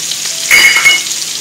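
Salmon sears in a hot frying pan, giving a loud, close, continuous sizzle with crackling spatter that swells briefly partway through.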